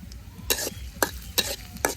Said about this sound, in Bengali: পেঁয়াজ কাঁচামরিচ ভেজে জানি